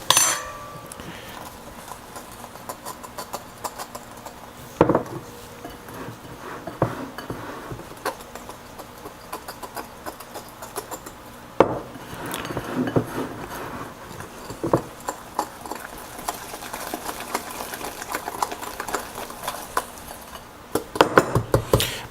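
A fork clatters steadily against a bowl while egg and sugar are mixed for cannoli dough, giving close, busy metallic scraping and clinking with a few sharper knocks throughout.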